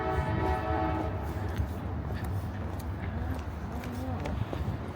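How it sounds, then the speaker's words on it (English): A distant train horn sounds with long sustained tones over a rumbling, noisy outdoor background near the ocean in Ventura, California, fading into general ambient noise. "There comes that train. You hear it?"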